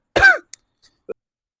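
A single harsh cough up close, followed by a couple of faint throat-clearing clicks, then quiet.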